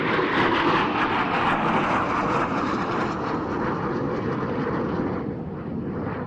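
A fixed-wing airplane's engine roars loudly and steadily as the plane sets off on a holiday flight, a dense broadband drone that eases slightly toward the end.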